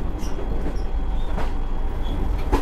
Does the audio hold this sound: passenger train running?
yes